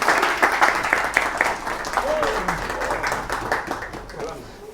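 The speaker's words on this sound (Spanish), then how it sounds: "un aplauso para los chiquillos" A room full of people claps for children at a church gathering, a dense steady patter of moderate applause with a voice speaking over it.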